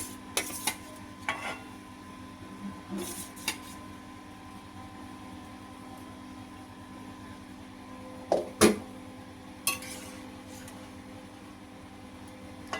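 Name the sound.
fried eggplant and hilsa fish added to the pan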